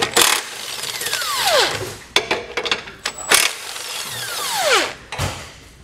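Wrench work loosening 16 mm bolts on the rock guard mounts of a 2019 Jeep Wrangler: repeated ratcheting and metallic clicks with brief tool screeches and clanks, close and fairly loud, no talking.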